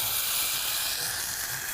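Green pigeon peas (lilva) tipped into hot tempering oil with a pinch of asafoetida in a kitchen pan, giving a loud, steady hissing sizzle that fills the moment, close and continuous with no talking.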